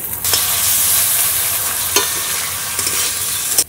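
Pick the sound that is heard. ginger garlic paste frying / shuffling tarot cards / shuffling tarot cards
ginger garlic paste frying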